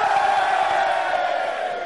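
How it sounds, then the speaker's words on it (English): Stand-up comedy audience cheering in Reading as a comedian asks for a cheer, a dense, loud, continuous roar of whoops and shouts lasting throughout, slightly tapering at the end. "Give me a cheer if you're from outside Reading"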